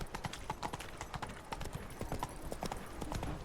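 Roach, the horse in The Witcher 3, trots with a steady, quick clip-clop of hooves on the ground, close and rhythmic, and continues without pause.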